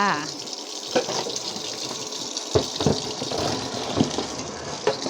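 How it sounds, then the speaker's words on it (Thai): Tap water runs into a sink to rinse boiled mushrooms for a curry, a steady gushing stream broken by a few clattering knocks of handling nearby. "เปิดน้ำรอเลยค่ะ"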